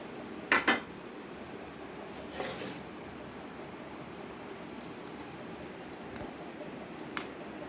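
A knife cuts soft Mysore pak into shapes, giving two sharp metallic clicks near the start and a softer scrape midway. Quiet room hiss fills the rest.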